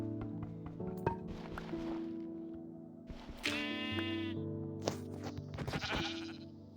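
Sheep bleat repeatedly in a Minecraft-style block video game, drawn-out calls rising over a steady background of game music and ambient tones, with a few clinking effects.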